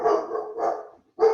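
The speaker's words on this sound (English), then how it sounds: "Sorry about my dog." A dog barks indoors in a home, three close, fairly loud bursts in quick succession, with a short pause before the last, and no one speaking.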